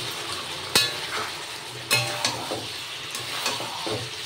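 Mutton cooks in a pan with whole garlic, the meat stirred and browned in its own released oil, sharp scrapes and knocks of the spoon over a low sizzle.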